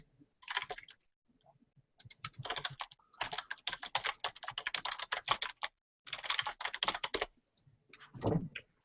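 Rapid clicking and typing on a computer keyboard and mouse during an online hangout session, in several dense bursts separated by short pauses, close and fairly quiet.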